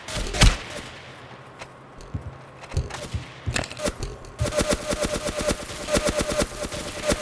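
Gunfire in the video game Ace of Spades 2: a few single sharp shots, then a fast rattling burst of automatic fire that carries on steadily to the end.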